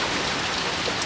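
Steady outdoor rain falls as a continuous broadband hiss, close and even in loudness, with soft spatters on surfaces throughout and no speech.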